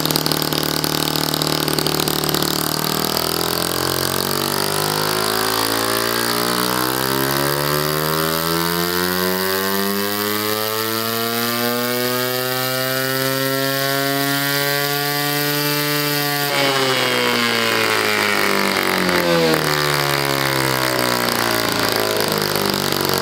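A small model engine fitted with a new rotary valve design runs alone, driving a heavy high-inertia flywheel; its steady buzzing tone climbs smoothly in pitch as it speeds up, then shifts abruptly near the end.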